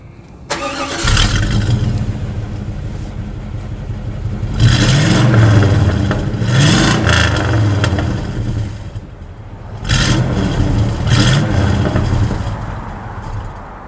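A Chevrolet Tahoe with a clogged stock exhaust and an exhaust leak behind the Y-pipe starts up, then gets revved in three loud, deep surges separated by lower idling stretches.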